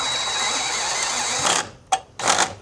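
A power driver spins a screw into place while mounting an EV charger at home. It gives a loud, steady whir for about a second and a half, then two short bursts as the screw seats.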